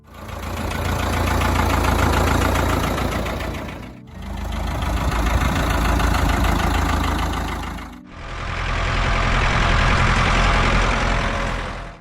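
A Ford 5000 farm tractor from 1964 runs with a steady, loud diesel rumble in three continuous stretches, each briefly dipping before the engine sound resumes, with no talking.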